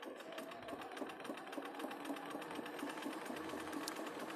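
A home sewing machine stitching two pieces of fabric together along a quarter-inch seam, a fast, even mechanical chatter of the needle running steadily and fairly quietly without pause.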